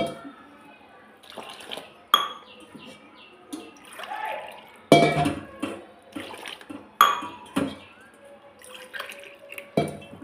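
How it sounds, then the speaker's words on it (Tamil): Water poured by the tumbler into rava dosa batter in a kitchen, splashing in several separate pours with clinks of vessels between them, close by and with no talk heard. "அந்த அளவு வச்சு 4 டம்ளர் தண்ணி ஊற்றிக்கிடலாம்."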